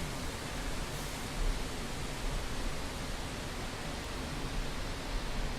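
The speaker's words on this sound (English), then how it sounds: "It's just white noise." Steady, intentional white noise in a game development stream plays alone as a flat, even hiss across the whole stretch, with no talk over it.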